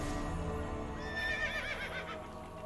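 A horse in the video game Assassin's Creed Brotherhood whinnies with a rising, wavering call over a steady bed of background music and ambient sound, moderately close.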